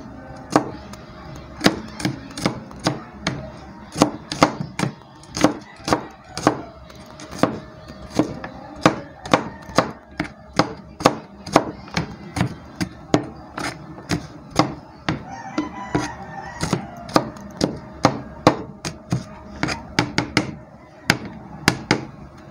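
Garlic being chopped with a knife on a board while cooking a vegetable dish: a long, steady run of sharp, close knocks, evenly paced and continuing throughout with no talking.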